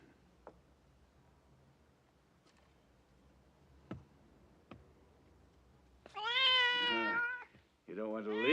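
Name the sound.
cat meowing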